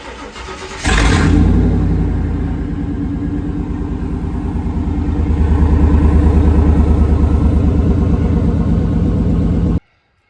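A 1990 Chevy truck engine with a new side-exit exhaust cranks and fires up, then runs with a deep, throaty exhaust rumble, revs climb briefly, and the engine cuts off abruptly at the end.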